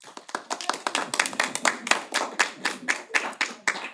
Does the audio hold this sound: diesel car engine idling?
no